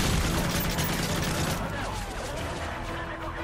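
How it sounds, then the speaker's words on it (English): Gunfire in Call of Duty Modern Warfare 3: a dense, loud burst of game shooting packed into the opening seconds, then easing into a rougher, quieter stretch of combat noise. "This is a shotgun?"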